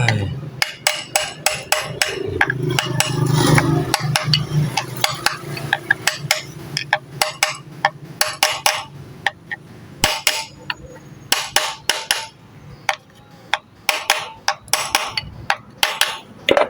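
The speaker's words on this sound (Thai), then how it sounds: "ใช้ค้อนตอกเข้าไป" Sharp metallic hammer blows drive a part into a Honda Wave 100 motorcycle magneto assembly, close and loud, in quick uneven bursts over a low background hum, with brief pauses between volleys.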